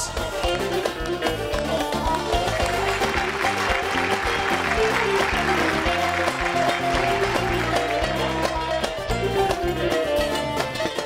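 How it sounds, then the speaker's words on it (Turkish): A television studio audience applauds the bride and groom at a henna night celebration, steady clapping blended into loud, rhythmic live music with percussion that dominates throughout. "stüdyo ekran başı gelinle damada alkış"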